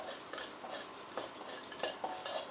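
Spices dry-roasting in a pan over low heat for a Thai stewed pork leg dish, with soft scraping and stirring clinks of a utensil against the pan at an irregular pace, close and moderately quiet, no talk.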